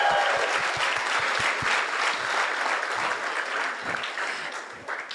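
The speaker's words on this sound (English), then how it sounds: "Can we give them a round of applause?" Wedding guests at a reception clap for the newlyweds in a burst of dense applause from a crowd, with sharp individual claps at first, then a sustained patter that slowly thins out. No one speaks.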